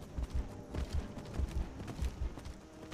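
Horse hooves galloping in the video game Skyrim, a quick run of soft, dull thuds repeating in uneven bursts at close range, with no voices over them.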